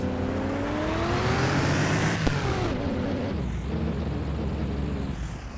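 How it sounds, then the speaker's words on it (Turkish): A car engine in the Car Parking Multiplayer game revs hard and loud, its pitch climbing steadily for about two seconds before dropping back to a rough, steady roar, with no talking. "Amca gaz yap. gaz yapmış. gaz gaz."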